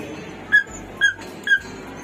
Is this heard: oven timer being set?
no